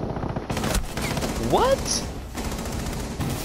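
Gunfire in the tactical shooter game Rainbow Six Siege, a sustained burst of shots running the whole clip at steady loudness, with a brief voice speaking over it.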